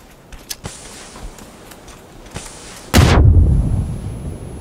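A grenade blows up in PUBG with a loud, heavy boom whose low rumble lingers, after a stretch of sparse, faint game noises and quiet pops.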